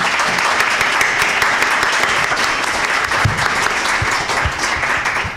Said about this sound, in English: I'd like a round of applause for this panel